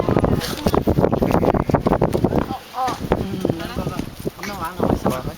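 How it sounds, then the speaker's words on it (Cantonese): Strong wind gusts outdoors at a wedding, rumbling against the microphone in a steady, loud roar beneath people talking nearby. "快啲，好大風啊！"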